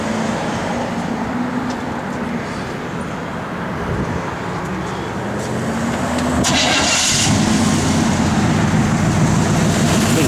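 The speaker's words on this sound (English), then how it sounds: "Runs and drives excellent." A 1971 Chevrolet Cheyenne truck engine runs steadily at close range, a continuous low rumble that grows slightly louder and fuller partway through, with no talking.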